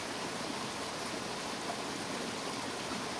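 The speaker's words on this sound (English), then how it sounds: "there's a waterfall behind me," Steady, even roar of a waterfall, a constant broadband rush of water with no breaks and no one speaking.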